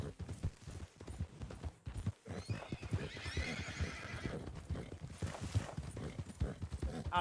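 A horse gallops with steady, rhythmic hoofbeats and gives a clear whinny partway through, all in Red Dead Redemption 2 online, set against a busy, continuous game soundscape.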